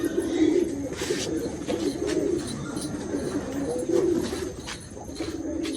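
Several pigeons coo in low, throaty, repeated phrases nearby, a soft continuous murmur of overlapping calls with no talking.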